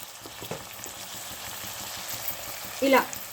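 Ponnaganti greens sizzle and fry in a pan for ponnaganti kura pappu, a steady close hiss with a short louder burst of crackling near the end.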